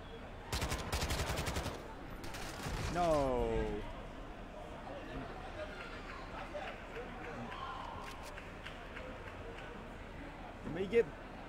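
Gunfire in Call of Duty: Modern Warfare II, two sharp rapid bursts of automatic shots at the start followed by scattered fainter shots and game effects, with a voice talking at times.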